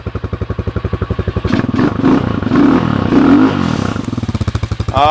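A Taomotor TBR7 Hawk 250cc enduro motorcycle engine with its catalytic converter removed idles with a steady, throbbing pulse, then revs up loudly and roughly with a raw, unmuffled rasp before dropping back to idle.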